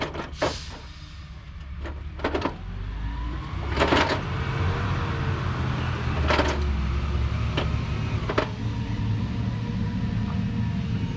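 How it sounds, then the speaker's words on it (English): A trash truck rumbles in the background with a low, continuous engine drone, punctuated by sharp mechanical clanks and hisses, heard outdoors near someone working on a 1984 Ford F-350. "That background noise is the tire truck. I mean the trash truck."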